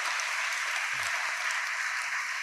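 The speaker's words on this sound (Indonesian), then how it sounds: "Kasih aplaus ke Bapak Kapolres." An audience claps steadily and densely for the police chief at a community gathering held by the Nganjuk police; the applause stays even and continuous from start to end, with no voices.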